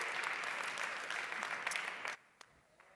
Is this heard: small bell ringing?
no